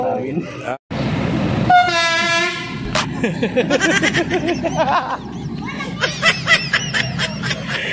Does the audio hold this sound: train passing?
yes